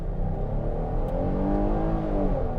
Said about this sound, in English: Some decent engine noise.